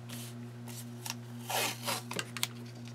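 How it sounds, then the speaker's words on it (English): Decorative masking tape is pulled, torn and pressed onto paper in a planner, giving close, quiet rubbing and rustling with a short tearing rasp in the middle. "So let's get some tape on there."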